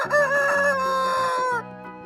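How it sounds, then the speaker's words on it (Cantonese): A rooster crows once, a single loud, close cock-a-doodle-doo call with a long drawn-out end, heard alone over a faint musical backing. "公雞"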